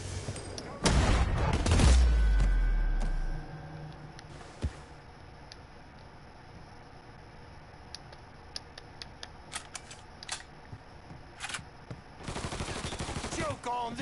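Gunfire in the video game Mafia III: a loud burst of shots and a heavy boom at the start, then scattered sharp single shots and clicks across a quieter stretch, with voices speaking.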